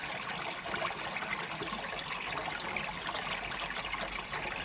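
Indesit Moon washing machine pumping out water near the end of a 40 wash, a steady broadband rushing and trickling drone that holds constant and close throughout, with no talk.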